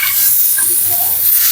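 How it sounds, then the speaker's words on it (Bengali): Ash gourd pieces fry in a pot for murabba, giving a steady, close sizzle and hiss with soft stirring scrapes, and no talking. "এটা বারবার নেড়ে নেড়ে ভাজতে হবে"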